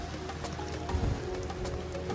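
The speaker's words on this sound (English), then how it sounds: "Pouring down with rain." Heavy rain pours down steadily outdoors during landscaping work, a dense, continuous wash of drops with a few low thuds, fairly loud and unbroken throughout, no talking.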